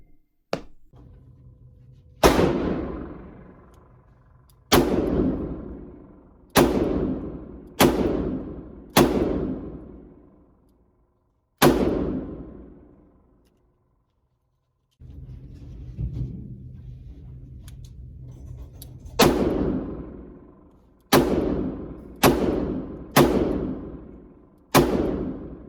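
Loud, sharp gunshots from a Smith & Wesson M360 Airweight .357 Magnum revolver, about a dozen in uneven groups, each cracking and then ringing out into a long decay, with quiet gaps and low background noise between shots.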